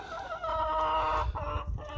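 Chickens cluck close by in a continuous, busy chorus of short, throaty calls, with no voices over them.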